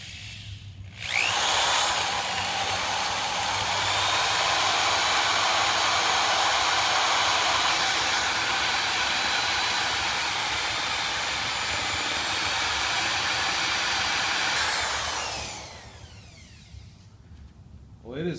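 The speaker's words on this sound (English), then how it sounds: "it is definitely drilling that hardened steel" A drill fitted with a rescue bit grinds into hardened steel to free a broken bit from a motor, a loud steady high-pitched whine running unbroken for about fourteen seconds before stopping.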